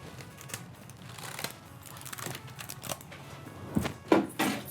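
A cheap computer keyboard tapped in scattered, uneven keystrokes up close, building to a few louder clacks near the end, with no speech over it.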